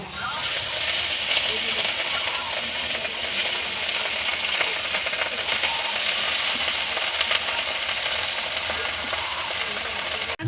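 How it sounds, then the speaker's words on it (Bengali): Katla fish frying lightly in hot oil, a steady dense sizzle and hiss running close and loud throughout with little change in level. "ভাজা হয়ে গেছে তুলে নিচ্ছি দেখুন মাছটাকে খুব হালকা করে ভেজেছি"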